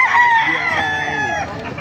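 A rooster crows once, loud and close, a strained drawn-out call with a little background noise, at a poultry market.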